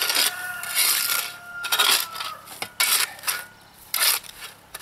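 Pea gravel and a little sand being sifted out for aquaponics, with gritty rattling scrapes and clinks in uneven bursts, close and moderately loud, with no talk.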